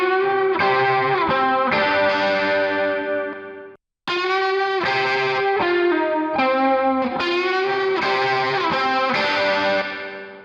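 Saturated lead guitar processed through a Pre-73 preamp emulation with heavy drive, playing sustained melodic notes with a thick, harmonically rich tone, solo and loud, with a brief gap near the middle.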